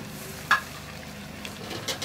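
Whole spices such as cloves, cinnamon sticks and black pepper with ground coriander roasting dry in a pan, a faint low sizzle broken by a single sharp clink of a utensil and light scraping.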